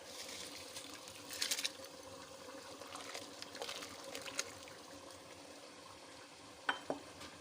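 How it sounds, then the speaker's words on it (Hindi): Rice added to a pot of boiling water for Sindhi biryani, a continuous bubbling and sizzling wash with a few brief splashes and clinks, close by with no talking. "हमारा चावलों का पानी गर्म हो चुका है, उसको बॉईल आ रहा है। इसमें हम अपने चावल डाल देंगे"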